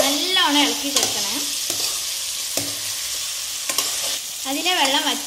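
Chopped tapioca is turned in a hot pan with salt, its moisture boiling away: a close, continuous sizzle with repeated scraping strokes and clicks of a utensil against the pan, alone without talk.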